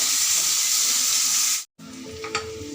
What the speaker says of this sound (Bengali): আমার পেঁয়াজটা ভাজা হয়ে গেছে, লাল লাল করে একটু ভেজে নিচ্ছি